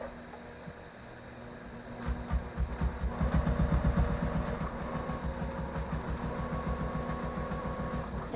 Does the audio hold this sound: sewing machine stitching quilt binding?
yes